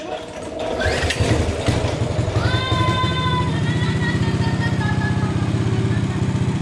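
A Coleman CT200U mini bike engine is cranked and catches, then settles into a loud, close, rapid putter with a brief rev, with voices briefly heard over it at the start.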